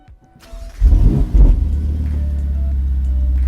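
A Ferrari 488 Pista's engine cranks and fires with a loud bark around the first second, surges briefly, then settles into a deep, steady idle rumble close by.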